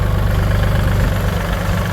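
Used Kubota L3608 SE tractor engine idling with a steady, low rumbling throb and light vibration, close and continuous throughout with no talking.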